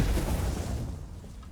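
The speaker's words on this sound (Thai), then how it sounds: "ระเบิดพลัง" A power burst skill explodes in the Roblox game Blox Fruits: one loud, full-range boom that fades away as a rumbling decay over about a second and a half, with no talking.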